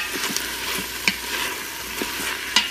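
Sausage sizzles steadily in an Instant Pot on saute mode, a constant close frying hiss broken by a few soft clicks and stirring taps, with no voices.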